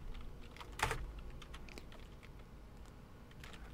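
Computer keyboard keys pressed a few times, one sharp click standing out among lighter taps, close and fairly quiet with no talk.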